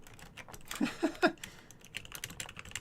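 Someone types on a computer keyboard in short bursts of rapid key clicks, a few louder taps in the middle, close and clear with no talking.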